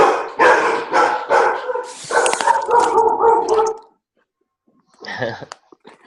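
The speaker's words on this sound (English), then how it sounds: "we have 4 dogs in case you can't tell" Four household dogs barking loudly and close in a rapid burst of overlapping barks, then a pause and one or two more barks.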